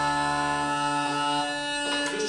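Three uilleann pipe drones, tenor, baritone and bass, hum together as a steady layered chord of sustained tones, loud and continuous with no talking.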